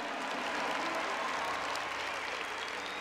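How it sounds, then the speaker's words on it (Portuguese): A church congregation claps steadily for about three seconds, a dense even wash of applause with no pauses. "Aplauda esse pecador que está sendo encontrado hoje aí do seu lado"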